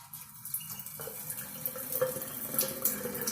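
Water runs steadily from a faucet into a sink, clouded with coffee creamer so a laser beam shows inside the stream. It makes a continuous close splashing hiss with no voices.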